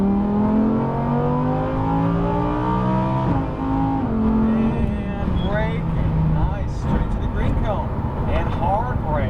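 Lamborghini Huracan on a track driving course, engine climbing at full throttle through rising harmonic sweeps and shifts, loud and close from inside the cabin, with an instructor talking over it.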